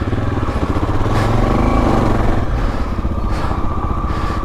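A 1984 Honda XL600R dual sport motorcycle running just after a roadside repair: a loud, close, steady single-cylinder thump with a fast even pulse and slight throttle swells.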